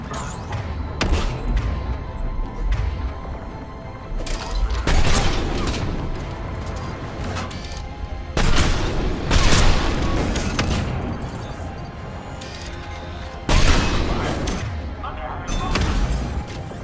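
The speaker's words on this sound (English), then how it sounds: "Those cannons have to be stopped." Heavy cannon fire and gunfire in the video game Mass Effect 3 on Insanity difficulty, with loud repeated booms and bursts of shots, interspersed with spoken dialogue.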